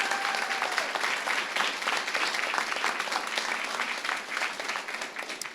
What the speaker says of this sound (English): Let's give a round of applause to our team members and to our wrestlers.